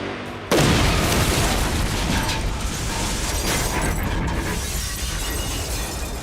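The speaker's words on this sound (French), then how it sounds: "L'impact de l'explosion sur le mur de la tour fut colossal." A sudden explosion, the 1993 World Trade Center bombing in New York, bursts in after a brief silence, then a long, heavy roar and rumble of debris that slowly fades.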